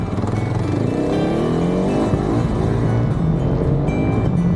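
An off-road vehicle's engine roars loudly and close on slippery ground, its pitch climbing and wavering as the throttle is opened steadily over a few seconds, with no talk over it.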